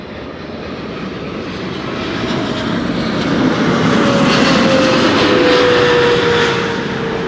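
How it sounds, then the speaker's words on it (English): A KLM airliner approaches runway 36 right at Amsterdam Schiphol, its engine roar swelling steadily from a moderate rumble to a loud, broad drone with a faint whining tone, then easing slightly. "KLM Flight 1270 is already turning in for 36 right"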